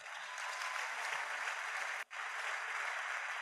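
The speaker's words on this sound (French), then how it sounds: "Acclamons le Seigneur." A church congregation at a worship service claps together in a steady, dense wash of applause that briefly drops out for an instant before resuming.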